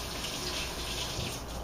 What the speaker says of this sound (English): I'm going to rinse my hands real quick here.